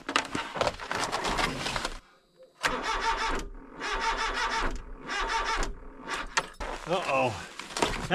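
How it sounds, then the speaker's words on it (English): A car engine in 0°F cold cranks repeatedly without catching, in several grinding bursts separated by short pauses, with a voice heard near the end. "Car doesn't want to start and it sounds like it's the battery."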